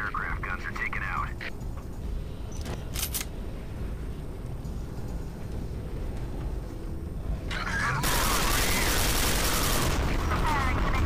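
Anti-aircraft gunfire in the sci-fi shooter Quake 4 comes as brief crackling bursts, then a loud, dense sustained barrage, over constant battle noise with voices talking in the background.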